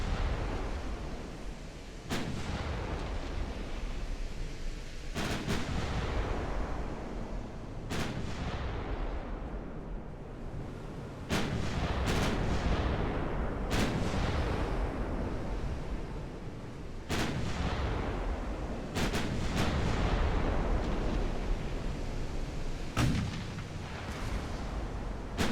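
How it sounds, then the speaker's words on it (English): Heavy booming fire from a battleship in the naval video game Ultimate Admiral: Dreadnoughts rings out in repeated loud blasts at irregular intervals over a constant rumbling background of sea and engine noise. "Could we fire the butt torpedo,"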